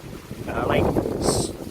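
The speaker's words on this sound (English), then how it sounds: "I'm sorry about the strong wind, it's really windy" Strong wind buffets a microphone outdoors, making a steady, loud, low rumble that lasts the whole moment with no break.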